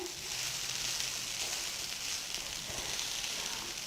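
Aval upma, flattened rice, is stirred in a pan over a low flame, giving a soft continuous sizzle with faint scraping and stirring clicks scattered through it. The sound is quiet and close, and no one speaks.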